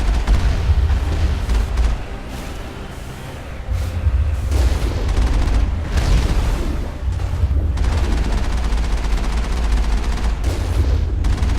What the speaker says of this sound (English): I don't know what the hell I'm shooting at